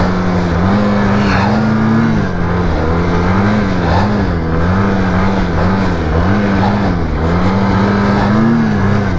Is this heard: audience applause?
no